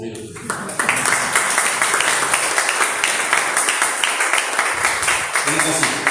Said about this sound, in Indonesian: Saya tepuk tangan agak lama karena saya masih mau minum